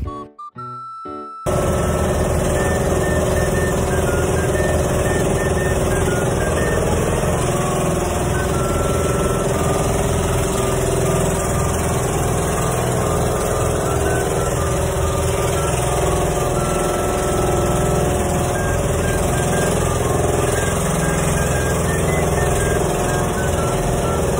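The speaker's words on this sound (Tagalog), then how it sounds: "narinig nyo na, too much louder ng ingay ng bangka" An outrigger boat's engine at sea drones loudly and steadily for the whole stretch, a dense, unbroken mechanical roar with no voices heard over it.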